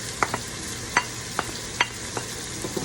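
Small tomatoes and chilies fry in a pan, a soft low sizzle broken by a series of sharp spoon scrapes and taps against the pan, close and irregular.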